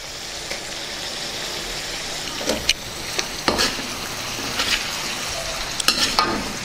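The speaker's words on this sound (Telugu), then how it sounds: "దీని కాసేపు అలాగే వేగనిద్దాం।" Chicken curry with red chilli paste and turmeric frying in a pan, a steady loud sizzle broken by several scraping stirs of a spoon, with no talking.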